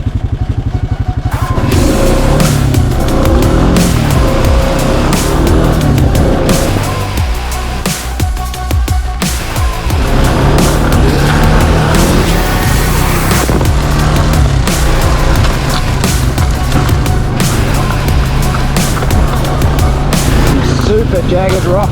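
A quad bike engine drones loudly as it rides over a jagged rocky track toward an abandoned gold mine. It rattles and clatters steadily, with a short dip midway, while someone talks over it.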